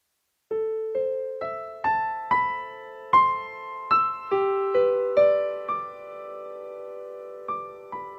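A solo piano passage from bar 14 of a performance piece, with clear struck notes rising stepwise in a steady rhythm, each decaying before the next, slowing toward the end with a couple of final sustained notes.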